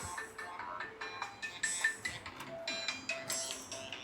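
A mobile phone ringtone plays a repeated melodic pattern of bright electronic tones, going on steadily for several seconds in a room while an LG home theater parcel is being opened, with no talking over it.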